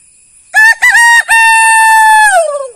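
A rooster gives one loud, close cock-a-doodle-doo: a few short clipped opening notes followed by a long sustained crow that trails off with a falling tail.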